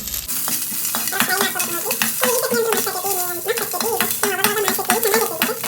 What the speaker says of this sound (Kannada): ಇವಾಗ ಮೆಣಸಿನ್ಕಾಯಿ ಹುರ್ಕೊಳ್ಳೋವಾಗ ಸ್ವಲ್ಪ ಎಣ್ಣೆ ಹಾಕ್ಬೇಕು ನೋಡ್ರಿ ಇದಕ್ಕೆ ಎಣ್ಣೆ ಹಾಕ್ಕೊಂಡು ಹುರ್ಕೋಬೇಕು